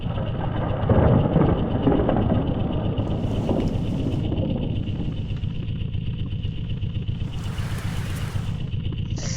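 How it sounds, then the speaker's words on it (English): Rain and rumbling thunder in a car crash video game, a steady broadband wash with low rolling rumble under a droning engine-like hum, continuous and fairly loud with no talking. "We don't need any rain though."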